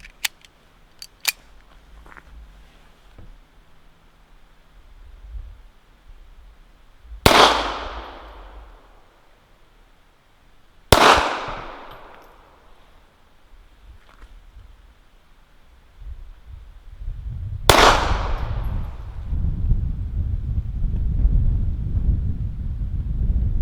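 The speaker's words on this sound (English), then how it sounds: "target number 4, we're using Hornady Critical Defense 90 grain" Walther PPK/S pistol firing Hornady Critical Defense 90 grain ammunition outdoors: a few sharp cracks at the start, then three loud, widely spaced shots with ringing decay, with wind noise rising toward the end.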